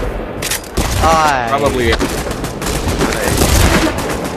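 Grenade blast in Pavlov VR shack competitive play, heard as a loud booming burst near the start with gunfire and crackling debris trailing after. A person speaks briefly over it.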